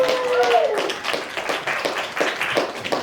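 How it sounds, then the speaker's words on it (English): An audience gives a round of applause at a live performance event. A voice is heard briefly at the start, then a stretch of scattered, crisp claps rises and continues to the end. "why don't we give another round of applause to Evolve for having this space today"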